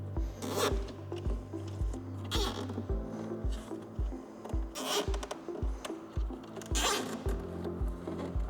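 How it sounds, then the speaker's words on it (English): A zip tie is ratcheted tight around wiring on a 2024-2026 Harley-Davidson Road Glide, giving several quick rasping pulls spaced a few seconds apart over a steady, rhythmic music bed. "And then we're going to zip tie our wire to that to keep it out of the way."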